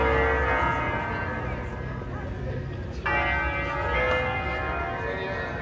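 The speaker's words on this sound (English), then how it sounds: "I listen to these beautiful bells." Church bells ring out from the Campanile San Nicolo in Lecco, Italy, on a Sunday: a dense, sustained peal of overlapping tones, fairly loud, with a fresh strike entering midway.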